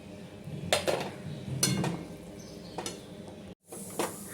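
Crushed peanuts go into sabudana khichdi in a pan with the flame off. A few soft scraping stirs and light clinks of a spoon against the pan are heard, with a quiet hiss between them.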